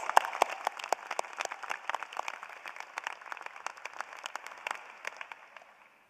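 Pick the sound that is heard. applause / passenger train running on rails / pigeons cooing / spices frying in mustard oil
applause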